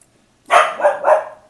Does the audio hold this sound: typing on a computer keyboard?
no